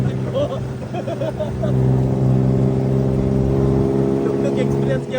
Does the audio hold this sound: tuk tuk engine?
yes